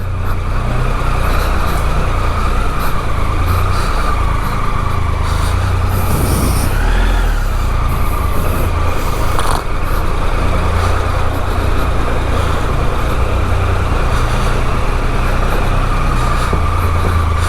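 A Triumph Tiger 1200 XCX motorcycle rides loaded with heavy luggage, its engine droning and rumbling steadily under constant wind and road noise throughout, with no talking.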